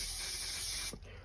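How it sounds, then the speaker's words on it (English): 3M Craft Mount spray glue hissing from the can in one steady burst that cuts off sharply, close and fairly quiet. "And just give it a light spray with glue"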